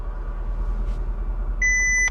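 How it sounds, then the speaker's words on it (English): Two short electronic launch-control beeps chime from a Jaguar F-type R V8 near the end, clear tones over the low idle rumble of the car's cabin. "Waiting for it to beep."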